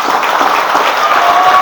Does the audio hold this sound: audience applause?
yes